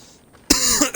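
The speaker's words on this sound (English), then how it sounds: "I apologize for the coughing." A sudden harsh cough bursts out close by after a quiet moment, followed by a second shorter cough.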